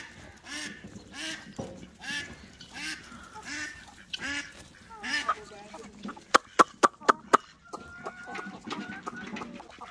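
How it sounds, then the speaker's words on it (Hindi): A domestic duck that had been ill, kept in a village with aseel chickens, quacks repeatedly up close alongside other clucking fowl, with someone speaking faintly and a few sharp knocks near the end. "बिलाल ये रहा जो हमारा डक्की बीमार था"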